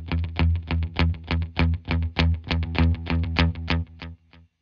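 An electric guitar runs through a Fender Reflecting Pool pedal set to a dotted-eighth delay, its repeated notes pulsing in a steady rhythmic stream before fading out, clean and close, with no talking.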